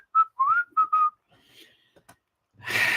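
A person whistling an old man whistle, a few short, clear, rising and falling notes close up, followed by quiet faint noises and a burst of rough noise at the end.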